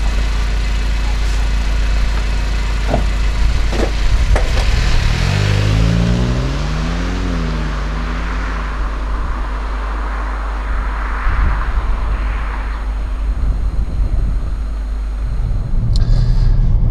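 Car driving on a road in Spain, its steady engine hum and road rumble continuous throughout, with a rising rev sweep early on and a few knocks; speech is faintly present.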